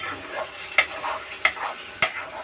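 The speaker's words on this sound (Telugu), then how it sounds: "ఈ స్టేజ్లో మనం ఏం చేయాలంటే జస్ట్ హైలో పెట్టేసి ఇలాగా తిప్పుకుంటూ ఉండాలి" Curry being stirred in a pan on high heat, with a soft sizzle and three sharp scraping clacks of the spoon against the pan at even intervals, close and alone without talk.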